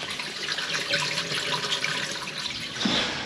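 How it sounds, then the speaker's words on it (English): Dirty water from a heating system pours out through a dump hose during a mains water flush, a continuous steady rushing and splashing flow with no talk. "You can see, just pumping it all out."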